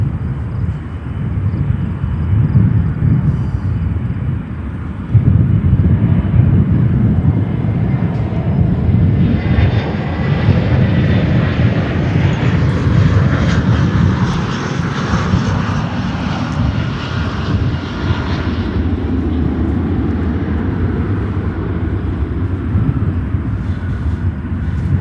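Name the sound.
Frontier Airbus A321 landing, arriving from Orlando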